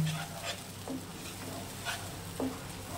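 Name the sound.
sautéing mustard spice paste in a pan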